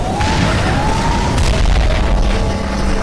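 An RPG rocket explosion in a skibidi toilet animation, a loud sustained boom with a deep rumbling low end, and a rising whistle-like tone runs through the blast.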